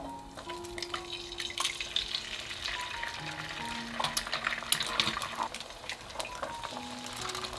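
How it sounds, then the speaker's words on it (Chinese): Three eggs fry in homemade scallion oil in a pan over medium-low heat, making a soft, continuous sizzle with light crackles and occasional scraping. "中小火把鸡蛋煎出香味儿"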